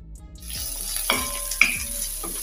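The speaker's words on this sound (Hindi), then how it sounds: "कढ़ाई में प्याज डाल दिए हैं, प्याज मेरा हल्का सा भून गया" Onions with chopped green chilli and ginger paste frying in a kadhai, a steady soft sizzle throughout with a couple of brief clinks or stirring knocks partway through.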